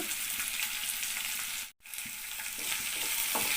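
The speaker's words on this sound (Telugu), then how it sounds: "ఉల్లిపాయ పచ్చిమిర్చి ఇలా వేయించుకుందాం." Chopped onion and green chilli sizzle in hot tempering oil with curry leaves, a loud, continuous frying crackle with a brief dropout midway before the sizzle resumes just as strongly.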